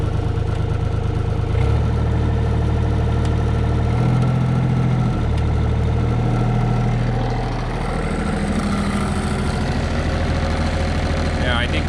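A Yanmar mini excavator's diesel engine idles steadily on a cold day, with a low rumble whose pitch shifts a few times as the speed is adjusted by hand. Someone talks over it.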